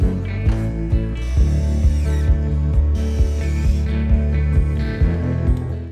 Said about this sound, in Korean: 스텐이라 드릴을 이용해서 구멍을 미리 뚫고 그 위에 피스 작업을 합니다